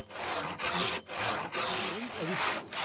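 A hand saw cuts through a wooden beam resting on a sawhorse, in steady rasping strokes roughly twice a second with short gaps between pulls, close and alone.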